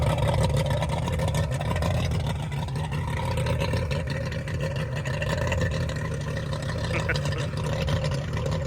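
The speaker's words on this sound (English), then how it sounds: "Love this old ski boat." A steady, droning outboard motor on an old ski boat runs continuously at close range, its low rumble constant throughout with a slight engine whine on top.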